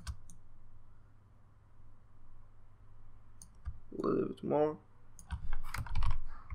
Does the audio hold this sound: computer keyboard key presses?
yes